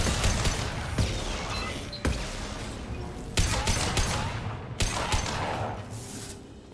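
A hacked defensive turret and other weapons fire in Mass Effect 2 Legendary Edition, rapid continuous gunfire punctuated by several sharp louder blasts, fairly close, with no talk.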